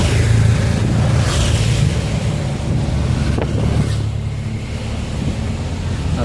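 Strong northerly wind blows steadily across an open outdoor spot near rubbish bins, a continuous loud rushing roar with gusty buffeting throughout and no one speaking.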